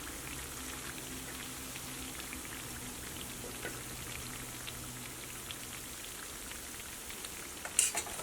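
Unniyappam made from oats and robusta banana frying in hot oil, a steady, faint crackling fizz with scattered small pops and one brief sharper clatter near the end, no voices.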